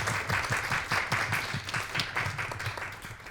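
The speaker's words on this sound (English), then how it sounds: "Let's give them all a round of applause" A live audience applauds a panel at an art and AI talk, steady dense clapping throughout with some low voices mixed underneath.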